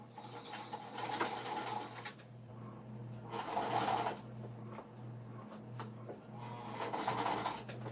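A sewing machine stitches a stadium bag from the inside, with bursts of rapid mechanical whirring and needle chatter separated by short pauses, close and fairly quiet with no talking.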